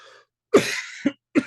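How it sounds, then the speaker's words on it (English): A few sharp coughs sound close up, one long harsh burst followed by two short ones in quick succession. "Excuse me for coughing."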